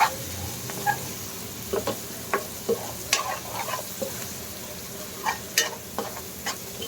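Onions frying to golden brown in a pan for chicken curry, a soft steady sizzle with scattered scraping stir strokes from a spatula, close and moderately quiet, with no speech.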